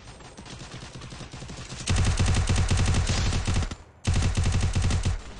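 Rapid automatic gunfire from a video game, with a quieter burst followed by two loud, sustained volleys of fast shots separated by a brief pause.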